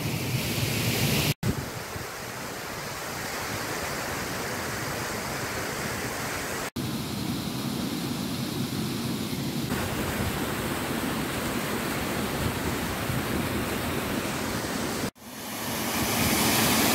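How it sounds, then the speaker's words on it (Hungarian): Waterfall and small mountain stream in the Scottish Highlands, a steady broadband rush of falling water heard close and loud, continuous for most of the stretch with a few abrupt breaks. "Ez a fönti része, amit mutattam a vízesésnek"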